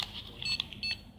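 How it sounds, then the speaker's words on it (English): A Verifone Vx675 POS payment terminal gives a few short electronic beeps while loading its application, thin and high-pitched, fairly quiet over a low hum. "You hear this beeping sound."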